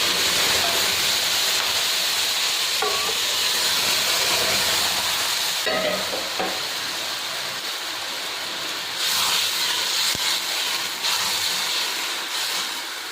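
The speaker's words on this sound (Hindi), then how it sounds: "दूध को उबाल आ गया है।" Milk with vermicelli at a rolling boil for sheer khurma, a steady loud hissing, bubbling rush close by with a few faint clinks, no talking.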